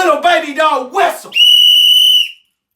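Brief vocal sounds lead into a loud, shrill, sustained whistle blast lasting about a second, then silence.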